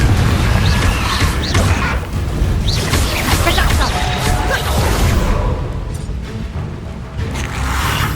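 The Confringo explosion spell in Hogwarts Legacy, heard as heavy booms and crashing bursts over a loud, continuous rumble of game action, with a voice calling out during the fight.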